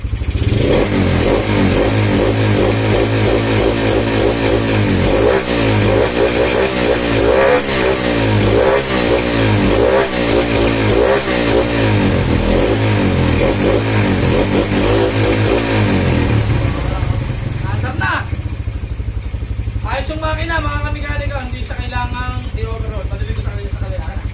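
A motorcycle engine, started after three years in storage and needing carburetor parts, roars and revs loudly and continuously, rising and falling in pitch, with people talking over it near the end.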